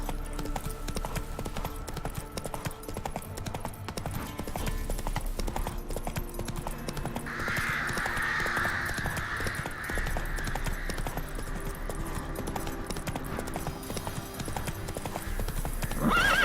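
Roach, the horse in The Witcher 3, gallops with rapid rhythmic hoofbeats and lets out a loud whinny partway through, set against a faint steady in-game ambience.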